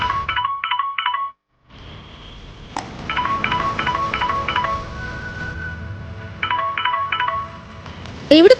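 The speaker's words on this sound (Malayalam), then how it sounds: "അപ്പോഴേക്കും അവന്റെ ഫോൺ റിങ് ചെയ്തു" A mobile phone rings at night with an electronic ringtone, sounding in short repeated bursts of beeping tones, three groups separated by pauses over a steady background hum.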